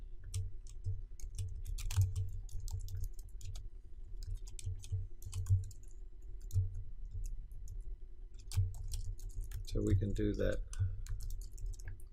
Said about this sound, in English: we would actually prepare our document by typing over